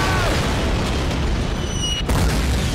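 A mortar round explodes in Call of Duty, a loud close boom with a dense rumbling burst filling the whole moment, followed by a second sharp crack near the end.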